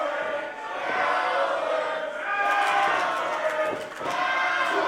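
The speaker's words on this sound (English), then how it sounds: "As you hear this raucous, sold-out crowd here tonight in Pacifica, ladies and gentlemen, calling Rick Luxury a coward." A raucous sold-out wrestling crowd in Pacifica jeers a wrestler, a dense, continuous roar of many voices with shouting that swells and dips throughout.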